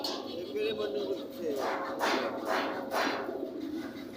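Lahori Sirazi fancy pigeons (a chocolate grizzle pair) at a rural market, giving soft, repeated cooing calls at moderate distance amid steady crowd chatter and market noise.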